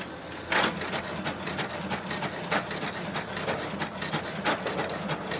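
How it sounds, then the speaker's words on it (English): An HP DeskJet 2652 all-in-one printer making a copy, a steady mechanical whir broken by repeated sharp clicks and rattling carriage passes, close and fairly loud. "just wait for the printer to do the copy"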